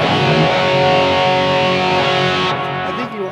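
A distorted electric guitar with DiMarzio Super Distortion pickups rings out as a sustained, saturated chord, thick and loud, fading slightly near the end.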